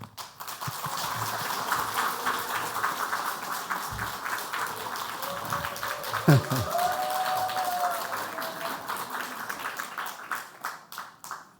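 A church congregation breaks into steady, sustained applause to welcome a missionary who has served in Nepal to the front, the clapping filling the room at an even loudness with some talk and cheering mixed in.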